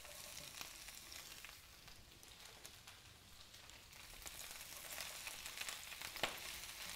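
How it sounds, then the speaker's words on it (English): Beet greens sautéing in a pan, giving a steady, faint, crackling sizzle that keeps going throughout with small pops and soft stirring noises, and no voices. "So we're just going to saute them in a couple sections at a time."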